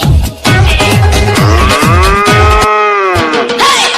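A cow lows in a playful dancing-cow song, a run of short repeated moos followed by one long drawn-out bellow, loud and close.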